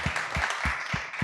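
A short burst of audience clapping with several distinct slaps in a loose rhythm over a wash of scattered applause, close and fairly loud, during a panel discussion.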